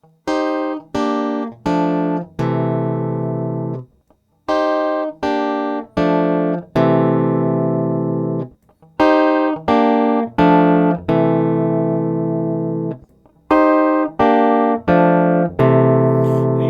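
A Chapman Stick strums a sequence of chords through its pickup filters. Groups of short, bright stabs alternate with longer ringing chords in a steady rhythm, loud and close with no talking.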